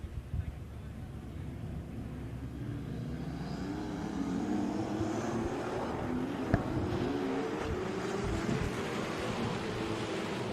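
A 2018 Ford Mustang at a drag racing event, engine roar building and rising in pitch as it accelerates, heard at a distance under crowd and announcer noise.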